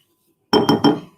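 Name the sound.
spatula scooping peanut butter from a jar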